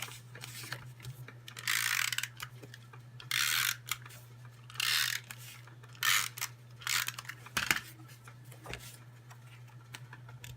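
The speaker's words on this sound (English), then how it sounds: "let me get out my snail adhesive here" A snail adhesive tape runner rolls across card stock during card making, giving repeated short ratcheting bursts with pauses between them over a constant low electrical hum.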